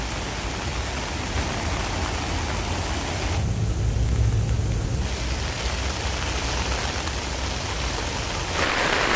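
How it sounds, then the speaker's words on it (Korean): A sudden heavy rain shower pours down in Singapore's Botanic Gardens, a dense, loud, unbroken roar of downpour with a low rumble partway through, no voices. "갑자기 소나기가 막 쏟아지기 시작해서요"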